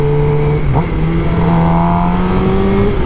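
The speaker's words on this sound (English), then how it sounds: "It's like that just distinct Gsxr sound." A 2015 Suzuki GSX-R 600 motorcycle with a short M4 GP exhaust idles and revs loudly up close, a steady buzzing drone with a brief blip partway through and no talking.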